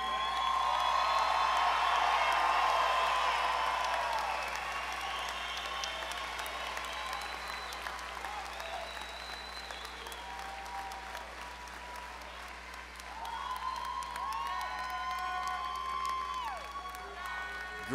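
Loud applause from a commencement crowd for the graduating class of 2023 at West Virginia University Institute of Technology, strongest at the start and then steady, with scattered cheers and whoops and a swell near the end.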